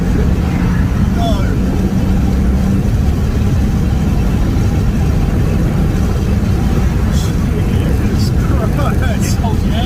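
A BMW E90 325d turbo diesel show car engine drones loud and continuous from inside the cabin as it pulls through the gears, with occupants talking and exclaiming over it.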